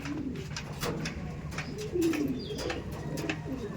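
Andhra pigeons in a loft coo softly and repeatedly at close range, their low throaty calls rising and falling over a faint background hum with no speech.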